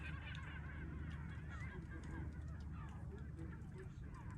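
Geese honk and birds call in a noisy flock by Lake Van, moderately distant, with a low rumble and faint voices underneath.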